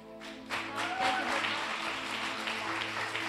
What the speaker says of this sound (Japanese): Let's give a big hand to Lisa.